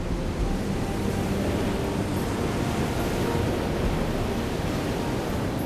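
Sea waves washing steadily over the near-vertical rock strata of the coastal outcrop at Zumaia, a continuous broadband roar of surf with no distinct breaks, close and fairly loud, with some wind noise and no voices.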